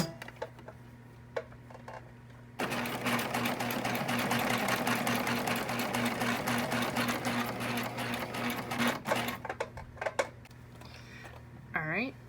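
A sewing machine runs steadily for about nine seconds, zigzag stitching a fabric face mask, with a loud, continuous rapid whir that starts and stops abruptly and short bursts of stitching at either end.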